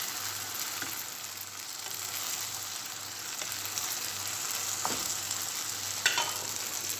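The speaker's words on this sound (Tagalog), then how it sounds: "Lagyan natin yung itlog. 2 buo yung itlog na nilagay ko." Two whole eggs fry in a pan of sautéed bitter melon, giving a steady close sizzle and crackle with faint scraping stirs and occasional soft pops throughout.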